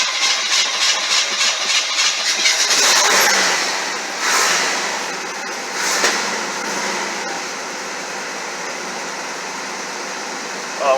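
A car engine cranks and catches, then settles into a steady idle with a brief rev, heard up close in a garage after under-hood work on the engine.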